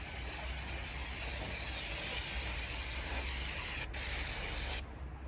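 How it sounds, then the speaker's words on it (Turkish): Brake cleaner sprays in a continuous hissing jet onto a dusty paper car air filter, close and steady for several seconds with a brief break before the end. "Şimdi yine balata spreyimizle bunu şöyle spreyleyebiliriz."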